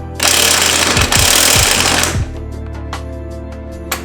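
Close, loud impact wrench hammering a BC Racing coilover nut on an Audi R8, one sustained rattling burst of about two seconds with rapid hits, then a quieter ringing tail with scattered clicks.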